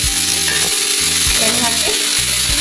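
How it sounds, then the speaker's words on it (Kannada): Oil splashing onto tomatoes in a hot pan brings a loud, close sizzle, broken by rhythmic scraping and stirring strokes, with no talking. "ಈಗ ನಾನು 1 ಸ್ಪೂನ್ ಎಣ್ಣೆ ಹಾಕ್ತೀನಿ ನೋಡಿರಿ."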